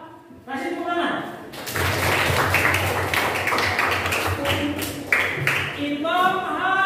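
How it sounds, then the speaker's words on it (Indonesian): Classroom group clapping, children applauding together in a dense burst under overlapping young voices and cheering, steady and close for several seconds. "Kasih tepuk tangan."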